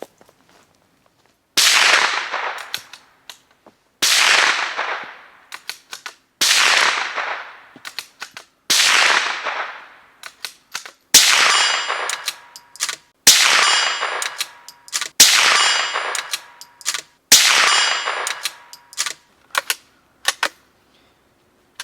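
A Savage Mark II rifle fires eight evenly spaced shots outdoors, each crack followed by a ringing clang off a steel target, with the reports arriving about every two seconds and no talking.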